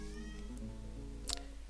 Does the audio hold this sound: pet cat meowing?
yes